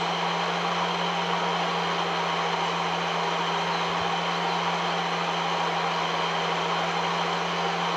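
A vehicle drives along the streets in Farming Simulator 19, giving a steady, even engine drone with a constant low hum that never changes pitch or volume for the whole stretch.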